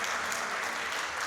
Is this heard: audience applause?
yes